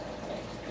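Water drains from a reef aquarium's main drain into the sump and its filter socks, a brief, steady, close rushing gurgle with no voices.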